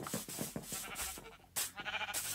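Sheep in the Minecraft video game bleat several times in quick succession, loud and close, with a few short bursts clustered together and no talking over them.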